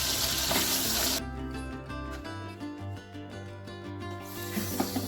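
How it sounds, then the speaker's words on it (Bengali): Two pabda fish fry in hot oil, giving a steady sizzle that is loud at the start and again near the end, with background music softer through the middle. "এবারে পাবদা দুটো ভেজে নিচ্ছি"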